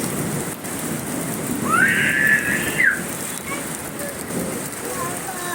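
Heavy night rain pours down in Dhaka as a steady, dense downpour, with a brief high whistling tone rising over it midway.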